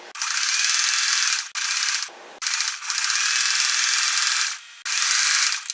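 Sewing machine stitching a raw-edge crazy quilt block with iron-on fusing, running in several loud, steady bursts of rapid needle chatter separated by brief pauses, with no talking.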